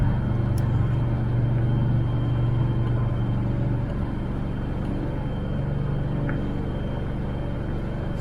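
A 1983 Oldsmobile Cutlass Supreme Hurst/Olds drives on its first outing after sitting twelve years, its engine giving a steady low rumble from inside the cabin with a constant road drone and no talk.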